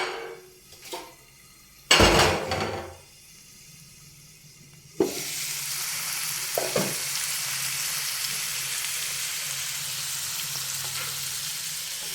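Carrots and onion are added to melted butter in a pan, bringing a few knocks and clatters and then a sudden loud sizzle that continues as a steady frying hiss, close up.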